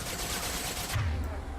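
Rapid video game gunfire in Mass Effect 2 crackles in a dense burst, followed by a low booming impact, with the sound loud and close.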